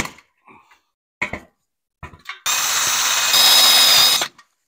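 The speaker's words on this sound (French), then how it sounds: "je vais venir me visser avec une vis autoforeuse" A power drill drives a self-drilling screw into plasterboard in a loud, steady whine lasting about two seconds, rising in pitch near the end, after a few short handling knocks and taps.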